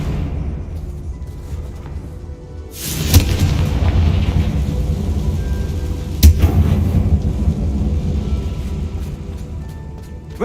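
Confringo fire spell cast in Hogwarts Legacy inside a closed mine, a sudden loud booming blast followed by a long rumbling roar, then a second sharp crack and rumble a few seconds later.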